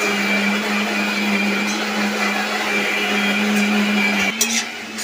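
Electric blender grinding ginger and garlic into a paste in a home kitchen, a loud steady motor whine running continuously, with a brief change in pitch near the end as the load shifts.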